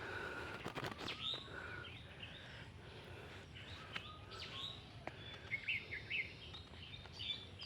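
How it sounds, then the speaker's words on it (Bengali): Small birds trapped in a net strung overhead give faint, high chirps and tweets. The calls come in scattered short bursts against a quiet outdoor background. "এখন এই যে পাখিগুলো আটকে আছে"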